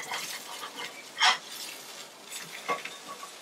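A burger patty sizzles on a hot grill while it is flipped, a steady fry hiss with one sharp scrape or slap of the spatula and a smaller clatter afterward.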